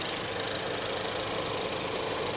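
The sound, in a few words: car engine idling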